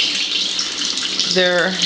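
Water pours steadily from a water ionizer tap at a fast flow rate, a loud continuous rushing gush heard close up, with a short faint tonal whine near the end.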